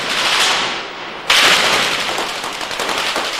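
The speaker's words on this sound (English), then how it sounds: "but led to a fierce gun battle" Rapid bursts of automatic gunfire crack close and loud in a fierce gun battle after an explosion near an Israeli armoured personnel carrier, a sharp volley landing midway through a dense, echoing fusillade.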